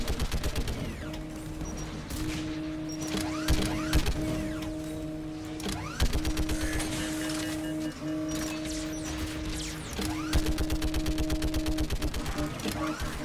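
Geth turret gunfire in the video game Mass Effect 3 comes as sustained rapid automatic bursts with mechanical whirring and tonal hums, loud and continuous across the stretch, while speech is also present.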